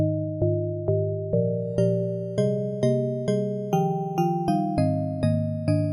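An FM synth with a fourth oscillator adding higher harmonics plays a sequence of plucky, bell-like notes at a steady pace, each decaying quickly, with bright metallic overtones and no voices.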